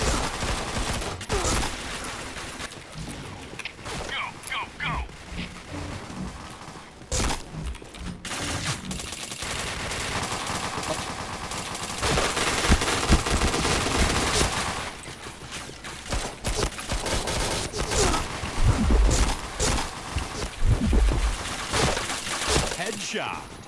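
Rapid gunfire from the online shooter game Point Blank, dense overlapping bursts and volleys continuing almost without pause at high volume, with voices faintly underneath at times.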